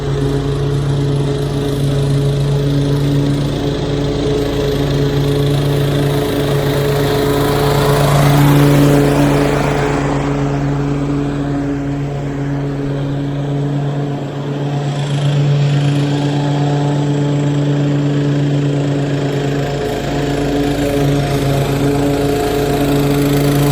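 An Exmark Commercial 30 X-Series lawn mower runs loud and close with a steady engine drone, swelling briefly midway before settling back to an even hum.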